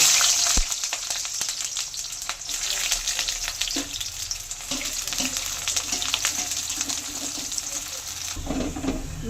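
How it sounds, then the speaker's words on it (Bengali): Onion slices deep-frying in hot oil in a kadai for birista, a dense, continuous bubbling sizzle held close for several seconds, with a few clinks and stirring knocks and no speech. "এবার একটা পেঁয়াজের ব্রেস্তা ভেজে নেব"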